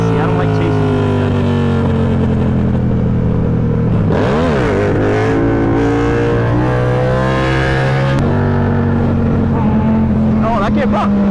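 Motorcycle engine revving hard during a wheelie, loud and close, climbing and falling in pitch with sharp throttle swings midway, a voice shouting briefly over it.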